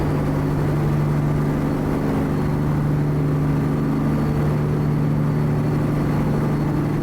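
Kenworth T800 flatbed truck with a Caterpillar C15 diesel engine in American Truck Simulator, a steady low droning hum at cruising speed, loud and continuous with no talking.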